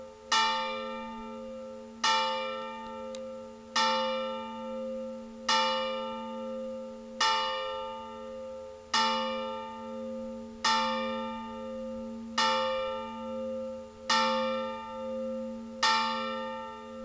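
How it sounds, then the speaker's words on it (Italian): Church bells of Fratta di Oderzo ring the Angelus, ten evenly spaced loud strokes about every 1.8 seconds, each one ringing out and decaying under a sustained humming tone. "Le campane non so chi le abbia fuse comunque."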